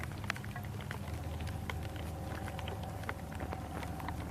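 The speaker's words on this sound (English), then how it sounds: "There's so much rain on my lens here." Heavy rain falls steadily at an outdoor rifle range, a dense continuous hiss with scattered patters and drips close to the microphone. No one speaks.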